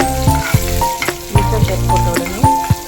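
Urad dal and mustard seeds frying in hot oil for a tempering in a home kitchen, a loud, close sizzle with crackling pops and a few scraping stirs, no talking.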